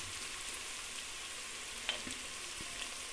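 Dry chili powder frying in oil for palav gives a faint, steady sizzle, with a couple of soft knocks from stirring.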